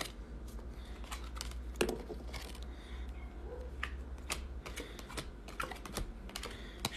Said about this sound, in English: So just shuffling out those cards.